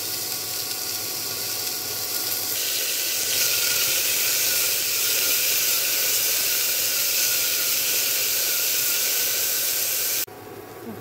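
Vegetable curry sizzling in a pan as salt and turmeric powder go in, a steady close hiss that holds for about ten seconds, then drops off suddenly near the end.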